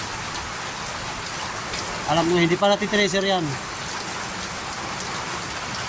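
Steady, heavy rain pours down outdoors during a typhoon-season downpour, a dense continuous hiss, while someone speaks briefly in the middle.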